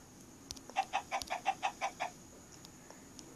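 Chickens in Minecraft cluck in a quick even run of about eight short calls, moderately close, followed by quieter background sound with no talk.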